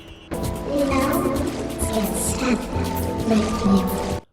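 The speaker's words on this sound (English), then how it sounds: "She's the water Toa, so when she talks it sounds like splashing?" A female Toa of water in a Bionicle video game speaks in a watery, splashing voice, with a bubbly gurgle running steadily through about four seconds of near, loud sound.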